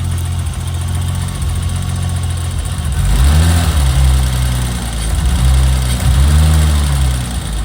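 A 1991 BMW E30 325i engine idles steadily up close, its low rumble swelling twice in brief revs before settling back.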